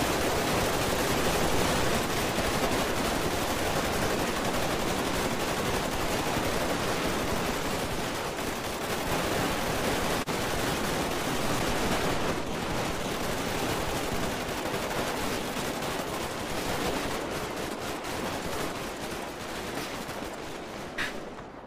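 Sustained dense gunfire from an in-game fusillade during a NoPixel roleplay session in GTA V, a continuous loud crackling barrage filling the whole stretch with no talk over it.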